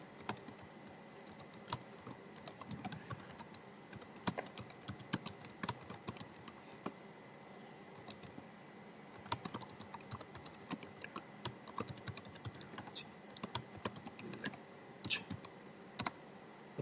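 Steady, brisk typing on a computer keyboard while text is entered into a slide text box, with a continuous patter of light key clicks and occasional louder key presses, close and fairly quiet.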